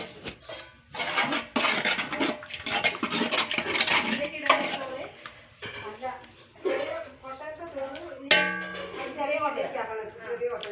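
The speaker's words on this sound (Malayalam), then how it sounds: "തവി അതിലേക്ക് വീണ് പോയി, ചട്ടുക ഇളക്കിക്കൊണ്ട് വന്നത്. ഇനി നമുക്കത് എടുക്കാം." A ladle is fished out of a cooking pot it fell into, giving metallic scrapes, clanks and rattling clinks against the pot that run throughout at close range, mixed with other kitchen handling and a voice talking.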